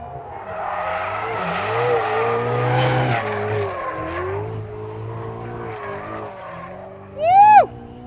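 A brand-new Ferrari 488 driven hard makes a steady engine drone that rises and falls while its tires skid, then ends in one loud, sharp tire squeal.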